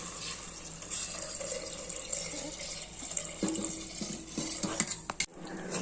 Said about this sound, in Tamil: இப்போ நம்ம தண்ணியை ஊற்றிக்கலாம்.